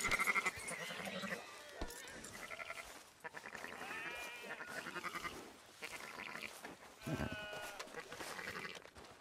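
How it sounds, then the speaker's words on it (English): Sheep bleating repeatedly in the video game Red Dead Redemption, several wavering calls overlapping and coming in bursts across the scene, fairly close and steady. "Fine sheep."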